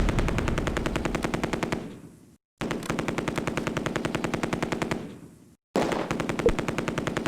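Machine gun fire in Close Combat: A Bridge Too Far, heard as three long, rapid bursts of close, loud automatic shots, each ending in a fading tail before a short silence.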